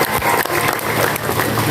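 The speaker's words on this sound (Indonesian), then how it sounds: "Tepuk tangan untuk beliau" A crowd at an Indonesian political speech before West Java clerics bursts into applause for a party deputy chairman, a dense, loud, continuous clatter of clapping throughout.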